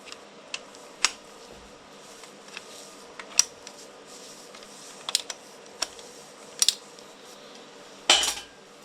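Wrench work on a monoboom skid steer engine rebuild, loosening bolts and lifting off a bearing cap: scattered sharp metallic clinks and taps at close range, irregular and spaced out, with a louder clatter near the end and no talking.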